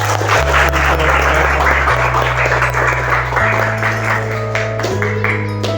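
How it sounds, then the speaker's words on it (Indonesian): Classroom applause, a steady wash of many hands clapping at once that continues for several seconds, heard close over a constant electronic hum. "Kita beri aplaus."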